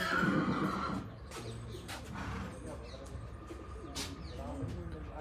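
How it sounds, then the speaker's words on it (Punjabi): At a stud farm, a horse gives a loud whinny at the start, then quieter stable ambience follows with pigeon-like cooing and occasional short sharp sounds, and a voice talking. "ਇਹਦਾ ਨਾਮ ਕੀ ਹੈ ਜੀ ਇਸ ਘੋੜੇ ਦਾ ਡਾਇਮੰਡ"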